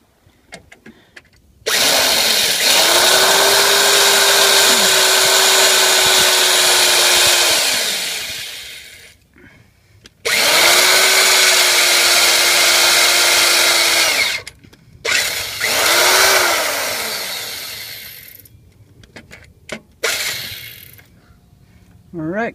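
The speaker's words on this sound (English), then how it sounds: "I'm just gonna go ahead and drill this through" A power drill stepping up through progressively larger bits while boring a gauge hole for a 7.3 OBS install, heard as three long loud whining runs, each ramping up and winding down, separated by short pauses.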